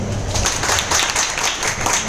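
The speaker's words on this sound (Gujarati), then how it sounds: "ભાનુભાઈ સાહેબ માટે એકવાર જોરદાર તાળીઓ" Indoor audience applause for a speaker at a business seminar, many hands clapping steadily and fairly loud throughout, with no voices heard.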